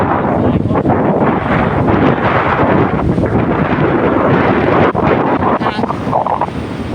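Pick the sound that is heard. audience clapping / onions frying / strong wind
strong wind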